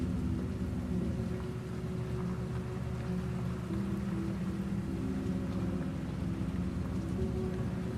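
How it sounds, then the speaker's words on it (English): Steady heavy rain pours down in a horror video game scene around a car with idle wipers, a dense continuous hiss with a low rumble beneath, loud and unbroken, with no voices. "Some nice relaxing rain,"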